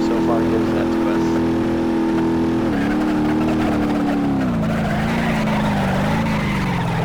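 Car engine in BeamNG.drive, an automatic being shifted by hand, drones steadily throughout, its pitch dropping and recovering at each gear change while someone talks over it.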